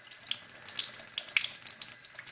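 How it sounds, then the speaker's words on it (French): Tap water runs into a container for a freezing and melting experiment, a faint splashing, gurgling trickle with uneven bursts over a couple of seconds. "je vais ajouter un petit peu d'eau du robinet"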